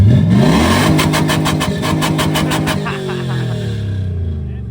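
A car engine revs hard close by, rising into a raspy, pulsing roar before falling back toward idle, with voices faintly underneath.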